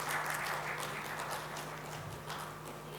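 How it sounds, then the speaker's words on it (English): An audience at an Embrace Equity event at The LaLit Great Eastern hotel in Kolkata gives a round of applause, a moderate, continuous patter of many hands that eases slightly toward the end. "Can we have a round of applause,"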